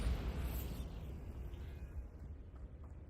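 Spell blasts from the Confringo and Bombarda charms in the game Hogwarts Legacy erupt as a heavy, rumbling explosion that starts loud and slowly fades into a lingering low boom.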